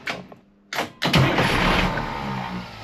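A Detroit Diesel marine engine on a boat cranks in short bursts, then catches at about one second and settles into a loud, steady, rumbling run close by, with no talking.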